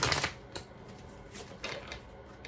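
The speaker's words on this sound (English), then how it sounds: "I'm going to shuffle these and put these aside" Tarot deck being shuffled by hand, producing quiet, close papery riffling and flicking bursts in a few uneven clusters, with no talking over it.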